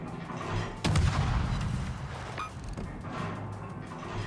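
Naval guns on a Polish Blyskawica destroyer fire in World of Warships, one heavy close boom followed by duller, lighter shots over a constant rumble of game noise.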